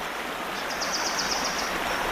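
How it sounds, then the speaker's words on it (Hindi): A waterfall pours in a steady, broad hiss of flowing water that stays even and fairly loud throughout, with faint bird chirps above it and no voices. "पंछियों के उड़ने की और झरने से पानी बहने की आवाज"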